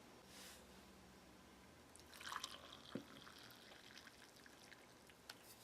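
Water trickles and drips faintly into a cup of cocoa for a Spanish Armed Forces combat ration, a quiet, sparse pour with a few brief splashes and no talking.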